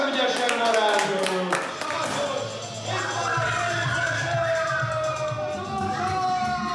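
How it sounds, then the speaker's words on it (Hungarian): At a children's birthday entertainment show, a group claps for a dad who has just done a magic trick, the claps quick and close at first, then fading under voices and music. "Apára kérünk egy hatalmas nagy tapsot, nagyon ügyesen varázsol!"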